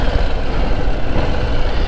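Harley-Davidson motorcycle engine running during a test ride at around 40 mph, a loud, close, low rumbling drone with steady pulsing throughout and no talking.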